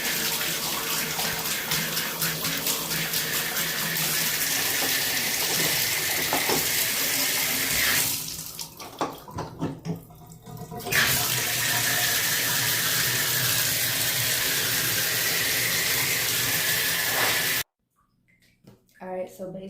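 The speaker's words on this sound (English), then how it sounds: "I'll just fill the tub up with like the regular tub water" Regular tap water gushes steadily into a bathtub as it fills, loud and continuous, with a brief dip in flow midway before the water abruptly cuts off. A voice talks over it.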